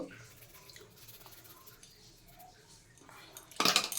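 Water is poured into a pressure cooker holding potatoes, a short, loud splashing gush near the end that follows quiet clinks of pots and utensils.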